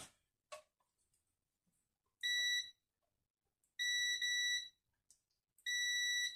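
A continuity tester checking a hair dryer power cord gives three loud, sustained electronic beeps, each about half a second to a second long, separated by quiet gaps with faint handling clicks.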